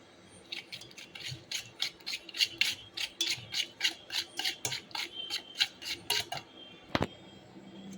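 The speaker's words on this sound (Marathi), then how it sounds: "आपण इथे पातेल्यामध्ये सर्वप्रथम बटर, त्यानंतर पिठी साखर आणि दही हे चांगले फेटून घेणार आहे." Butter, powdered sugar and curd whisked in a metal pot for a mango rava cake, a quick steady series of close scraping strokes about three per second, ending with a single knock.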